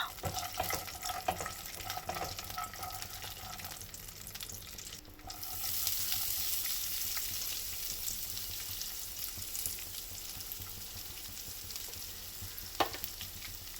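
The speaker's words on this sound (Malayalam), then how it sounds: "ഇനി ചെറുതായി കളർ ചേഞ്ച് ആവുന്നത് വരെ ഒന്ന് റോസ്റ്റ് ചെയ്തെടുക്കുന്നുണ്ട്." Leftover rice snack mixture with coconut roasting in a pan: a steady, soft sizzle and crackle throughout, with occasional stirring scrapes and brief clinks, fairly faint, no talk.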